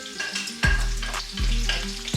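Chopped red onions drop into hot strained oil, previously used for frying shrimp and turkey wings, for jollof rice. Loud, close sizzling bursts out twice, each time as a fresh batch hits the pan, then settles into a steady crackling fry.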